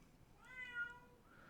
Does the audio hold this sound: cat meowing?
yes